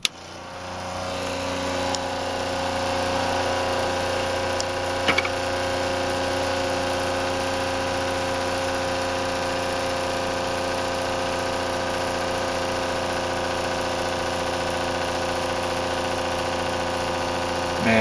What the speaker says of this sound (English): So let's turn on the pump and let it fill.